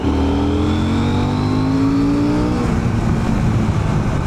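A loud Husqvarna Svartpilen 801 motorcycle engine revving up steadily in third gear at about 40 mph, its pitch rising through the first half and then holding at a high drone, close and continuous with no talking.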